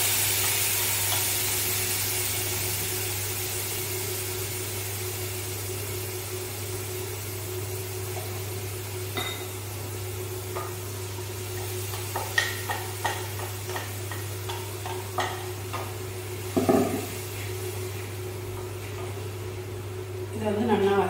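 Mustard seeds and green chillies sizzle in hot oil for a garlic chutney served with uttapam, a steady frying hiss with a constant low hum beneath and scattered crackles and pops that grow busier toward the end.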